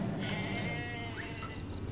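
A goat bleats faintly in the Jurassic Park Operation Genesis video game, a wavering cry over a dense background of game ambience and noise.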